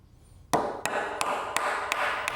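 A hammer taps the end of a nail on a wood-framing job to blunt the point: five or six sharp, close knocks at an even rhythm, with no talk.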